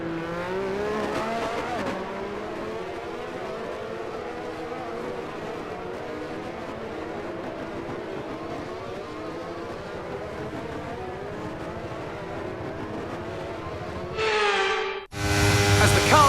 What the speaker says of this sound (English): The formation lap gets underway then